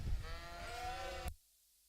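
A single sheep gives one clear wavering bleat at a livestock show pavilion, close and distinct, ending abruptly into silence.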